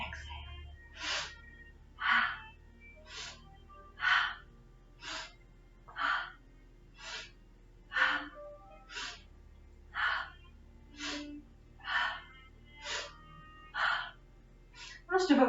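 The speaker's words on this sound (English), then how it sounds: "Inhale, exhale, inhale, exhale." Rhythmic breathing during a seated yoga twist, about a dozen audible breaths in and out at a steady pace, soft and close with light voiced edges.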